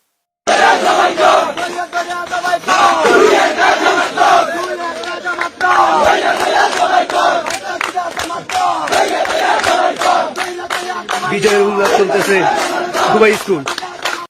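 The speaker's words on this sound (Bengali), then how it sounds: "এই যে দেখেন ইলেকশনে জিতে আওয়ামী লীগের স্লোগান দিতেছে" A dense crowd chants Awami League slogans after an election win, voices shouting in rough rhythmic bursts with claps and rallying cries filling the whole stretch at close, loud level.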